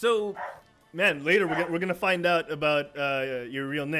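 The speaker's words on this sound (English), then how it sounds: "Sorry for the dogs, guys." Dogs bark and yip in the background while people keep talking over them throughout.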